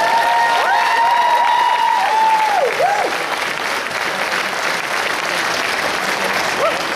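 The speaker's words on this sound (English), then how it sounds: "Round of applause for them." Loud, sustained applause and cheering from a crowd at a sci-fi convention's junior cosplay competition, with whoops and whistles rising over dense clapping for the costumed kids, then tapering slightly while staying steady throughout.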